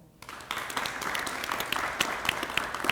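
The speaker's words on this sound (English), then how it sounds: "if you would give your family members a round of applause" An audience at a fire recruit class graduation breaks into applause for the recruits' family members, scattered claps quickly swelling into steady clapping from a moderately distant crowd.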